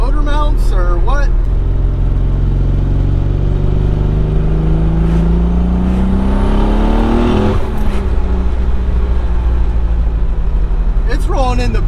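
A built twin turbo Nissan 300ZX accelerating hard under boost with wheel spin: a loud engine note climbs steadily in pitch from inside the car, then drops off, while people talk over it.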